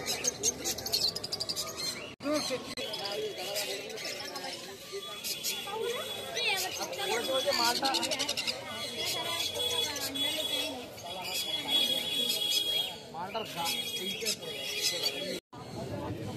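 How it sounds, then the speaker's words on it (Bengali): Birds, including banded pigeons, chirp and call continuously in a crowded Serampore pet market, with close voices talking over the busy chatter throughout. "দেখো এইগুলো হচ্ছে পায়রা"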